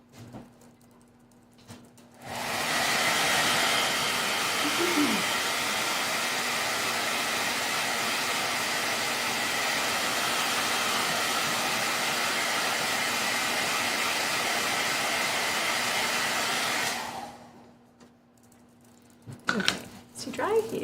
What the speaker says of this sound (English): I'm going to dry this with a blow dryer.